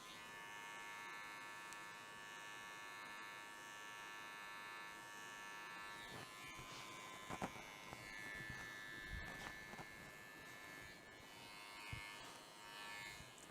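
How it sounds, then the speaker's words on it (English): Electric hair clippers buzzing during a barber's freehand haircut, a faint steady hum with occasional brief clicks and taps of cutting, no talking. "I'm going to open up my clippers a little bit to do some freehand."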